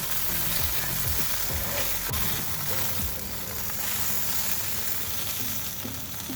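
Mini meatballs glazed with cherry habanero sauce sizzle steadily on a kamado grill, a dense, continuous close crackle with no talk.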